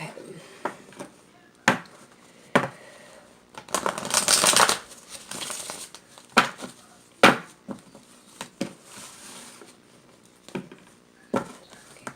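Well-worn tarot cards being shuffled, with bursts of riffling and soft slaps that pause and restart, including one longer flurry in the middle, heard up close.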